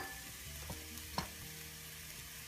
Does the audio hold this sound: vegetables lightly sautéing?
yes